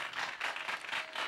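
Studio audience applauding on a Brazilian sertanejo TV program, a brief, fairly faint patter of clapping with soft swells and no talk.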